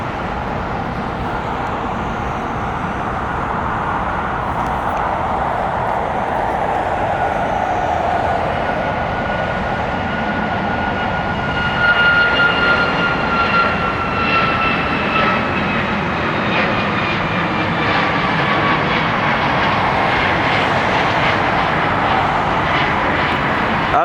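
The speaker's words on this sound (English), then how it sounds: "Off she goes there on a max 8." A Boeing 737 Max 8 jet departs from an airport, its steady broadband engine roar rising and growing louder partway through, with whining engine tones sweeping above the rumble as it climbs away.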